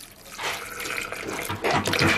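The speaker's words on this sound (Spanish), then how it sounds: "Echamos un poquito de agua." A little water poured into a blender jar of chopped peanuts while making carapulcra, a steady splashing pour that runs for a couple of seconds and swells louder near the end, with no talking.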